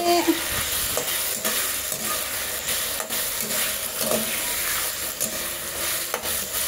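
Potatoes sautéing in a pan at a home kitchen in the province, a steady close sizzle with scraping stirs of a utensil throughout and no talk.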